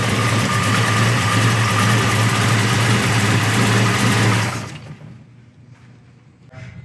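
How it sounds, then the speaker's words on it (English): A 690-horsepower 1970 Chevrolet Chevelle engine idles with a loud, deep, lumpy rumble close by for several seconds, then cuts off abruptly, leaving near silence with faint faraway noise. "Sounds wicked, doesn't it?"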